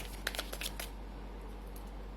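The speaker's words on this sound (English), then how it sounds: "let me start your reading and shuffle some cards for you" A short, quiet riffle of tarot cards being shuffled, a few quick papery flicks over a low steady hum.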